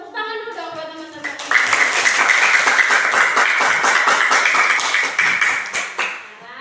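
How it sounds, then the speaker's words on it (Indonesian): A classroom of children bursts into applause, a dense, steady patter of many small hands clapping for several seconds before tapering off, following a brief spoken prompt from the teacher. "Tepuk tangan dulu dong buat teman-teman."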